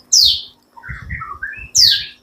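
A white-rumped shama sings alone, close and clear: a sharp high whistle, a run of varied warbling notes, then another sharp whistle.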